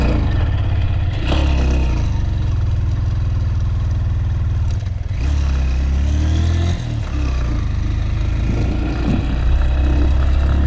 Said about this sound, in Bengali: কষ্ট হচ্ছে আমার বাইকের